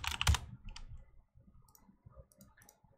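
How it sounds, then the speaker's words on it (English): A few quick key clicks on a computer keyboard, loudest in a short burst at the start, followed by quieter, sparse tapping. "We'll just type in backlink checker."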